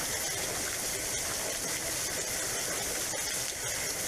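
Small waterfalls in a cave system in Zaleski State Forest, a constant close rush of falling water filling the space with dense, steady white noise.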